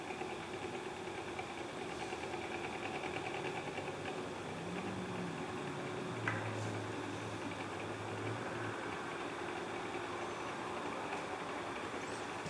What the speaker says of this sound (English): Because I've got the coil a fair distance away from the rotor, it takes a bit to wind up.